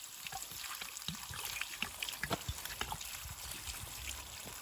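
Spring water at the foot of Ślęża being poured into a glass bottle: a quiet, uneven trickle and gurgle with small splashy bursts, close up and fairly faint.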